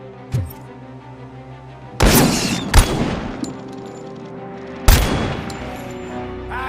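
In the video game RoboCop: Rogue City, loud gunfire goes off in several sharp bursts. A single shot is followed by heavy volleys and one more burst later over a low background hum. No one speaks.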